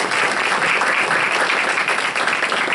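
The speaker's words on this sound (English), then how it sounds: "let's do a round of applause in her absence." A room full of people applauding at a board of education meeting, loud, sustained clapping that fills the whole stretch evenly without a break.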